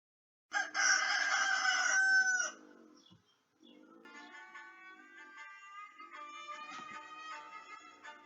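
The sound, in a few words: rooster crowing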